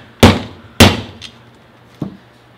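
Heavy hammer blows strike a loose part on a differential being prepared for welding for a 1JZ Supra drift car, two loud metallic bangs close together, a lighter tap, then a third hit, close and ringing briefly.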